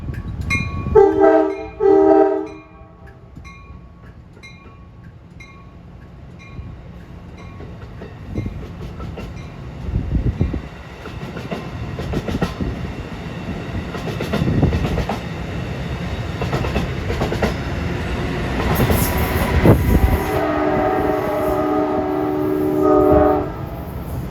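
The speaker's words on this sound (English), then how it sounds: "There's the Westinghouse AA2 horn from the Dinky" Westinghouse AA2 horn on the Princeton Dinky train sounds in short loud blasts at the start and again near the end. Rail wheels clatter and rumble in between as the train arrives at the station.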